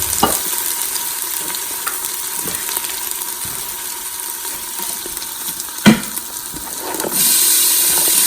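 Onions dropped into hot oil in an Instant Pot with cinnamon and dried red chili, a steady hiss and sizzle with a sharp clatter near the end and a louder surge of frying afterward, no speech.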